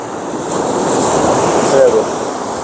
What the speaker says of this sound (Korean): 파도도 좀 심한데